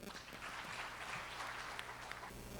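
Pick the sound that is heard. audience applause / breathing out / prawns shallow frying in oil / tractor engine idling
audience applause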